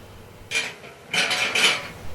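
Fried potatoes tipped into a cooking pot during large-batch cooking for a 200-guest household event, landing in two bursts of clattering, scraping pot noise, the second longer and rolling with several loud scrapes.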